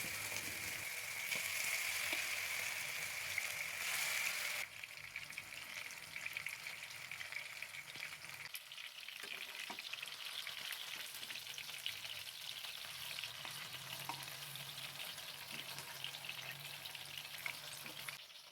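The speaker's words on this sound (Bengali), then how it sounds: "তেলটা গরম হয়ে গেছে, এবার ম্যারিনেট করা চিকেনগুলোকে হালকা করে ভেজে নিচ্ছি" Marinated chicken pieces fry in hot white oil in a nonstick pan, a bright steady sizzle that drops back after a few seconds into softer crackling and occasional stirring clicks, with no one talking.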